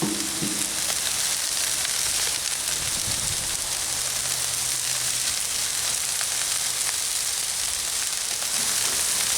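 Broccoli sizzling in oil and beef fat on a Blackstone flat-top griddle during a beef stir fry, a steady loud crackling hiss throughout with a few stirring scrapes early on.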